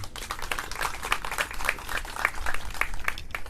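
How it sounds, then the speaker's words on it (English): Scattered crowd clapping at a courthouse celebration of California Native American Day honors a city councilman, uneven individual claps forming a moderate, fairly close round. "let's give him another round of applause there"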